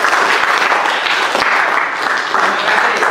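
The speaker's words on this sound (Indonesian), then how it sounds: "tepuk tangan semuanya." A classroom of students claps together for a group presentation, a loud, close burst of hand clapping that stays dense throughout.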